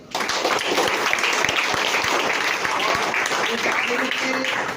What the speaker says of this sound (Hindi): तो सर के लिए एक जोरदार हाथ ताली।